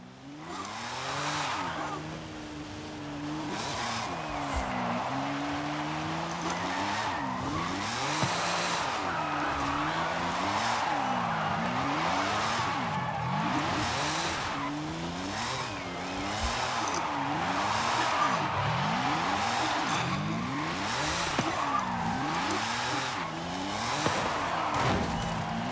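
Engine whine rises and falls repeatedly under a sustained tire screech as a car in a racing game spins its tires and smokes, loud and continuous throughout, with some speech mixed in.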